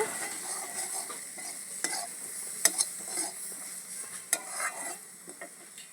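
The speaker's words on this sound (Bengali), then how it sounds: "এবার দিয়ে দেবো অল্প লবণ অল্প হলুদ এবারে একটু নেড়ে চেড়ে নেব" Fried brinjal and garlic are stirred in a pan with a little salt and turmeric, giving a soft continuous sizzle broken by sharp spatula clicks and scrapes against the metal, close and without talk.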